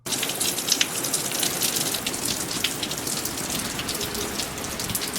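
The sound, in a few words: rain falling on a truck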